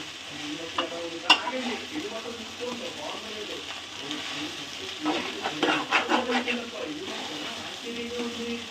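Egg fried rice stirred through hot oil in a pan, with repeated close scraping and tossing bursts over a bed of sizzling, while a voice talks in the background.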